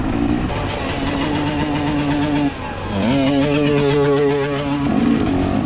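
A fuel-injected KTM 300 two-stroke dirt bike engine holds a steady buzzing note, briefly drops off, then revs back up into a rising, warbling whine, close and loud on a rocky hare scramble trail.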